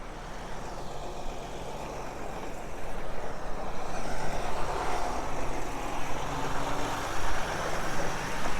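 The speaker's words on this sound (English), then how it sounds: "A lot of dump trucks go in and out of here." A dump truck passes on a road near a Florida retirement community, its broad engine rumble and tyre roar swelling through the middle and lingering steadily to the end, with no talking.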